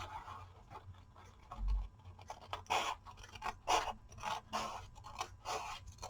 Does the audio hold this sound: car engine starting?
no